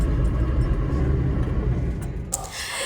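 A car pulls away at the start of a road trip, its engine and tyre rumble steady and close throughout, with a faint click near the end.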